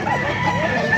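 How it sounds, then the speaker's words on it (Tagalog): A rooster crows in a chicken market, a short loud call mixed with nearby clucking and background bustle. "Meron pa mga manok dito."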